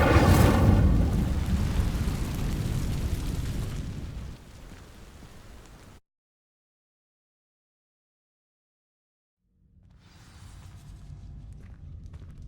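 Fire spell igniting dry vines in Hogwarts Legacy, a loud fiery burst and rushing crackle that fades over a few seconds, then silence before a low rumble returns.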